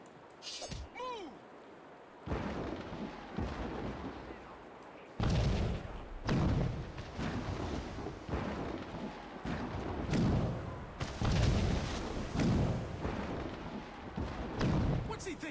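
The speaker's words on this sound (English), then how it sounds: "Mortars!" Mortar artillery in Assassin's Creed Rogue booms in repeated heavy blasts spread across the scene, loud and close, with shouting voices and battle noise mixed in between the impacts.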